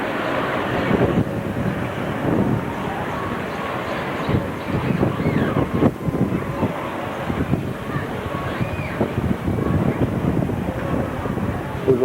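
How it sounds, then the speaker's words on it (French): Strong wind buffeting the microphone outdoors on a chilly day in the Balearic Islands, a steady loud roar with gusty fluctuations throughout. "Aujourd'hui, il fait pas chaud, et du vent."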